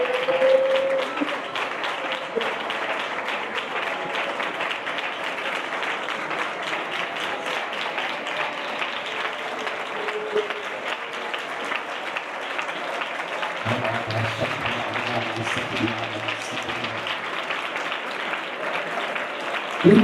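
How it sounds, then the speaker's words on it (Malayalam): A church congregation claps steadily and forcefully for about twenty seconds, a dense, continuous wash of many hands during worship, with a low instrumental tone joining near the end. "കൈ കെട്ടിയൊന്നും ഇരിക്കാൻ എല്ലാവരും കൈയടിച്ചു ശക്തിയോടെ"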